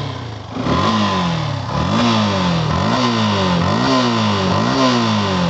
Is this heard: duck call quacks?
no